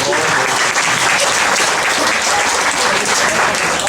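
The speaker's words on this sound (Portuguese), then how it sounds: "Nem comecei, estão me aplaudindo já" Sustained, dense applause from an audience at a career-fair lecture, loud and steady throughout without breaks, before the speaker begins his talk.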